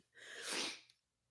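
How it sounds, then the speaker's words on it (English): One close, sharp sneeze from an adult bursts out of a quiet room, building from a short intake of breath into a loud explosive exhale, then trailing off into silence. "I'm going to sneeze again."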